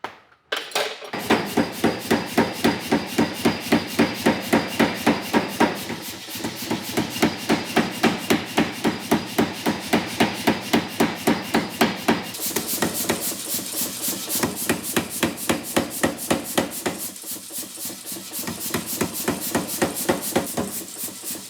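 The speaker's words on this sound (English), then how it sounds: "you're going to hammer it the same way, just to thin it out for that" Rapid, rhythmic hammer blows ring on hot metal being thinned for a sword hilt, in long steady runs, with brief pauses between bursts, close and loud.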